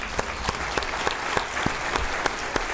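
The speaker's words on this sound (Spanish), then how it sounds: "Empecemos con un aplauso porque estamos de vuelta." A live audience applauds a returning speaker, a dense steady clapping crowd with sharp individual claps standing out near the front.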